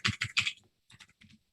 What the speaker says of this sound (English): Typing furiously over there, Sean.